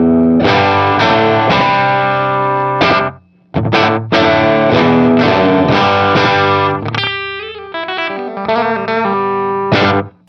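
An electric guitar plays strummed chords and then single notes through a Will Sledge FX 7x70 analog delay pedal set to a short delay, loud and close, with a brief pause after the first phrase.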